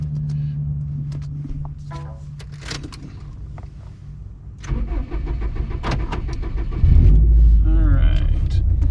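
A Subaru WRX STI with a burble tune is started up, its idle hum giving way to a louder, rougher rumble as the engine catches and revs, with clicks and rattles around it and brief speech in the background.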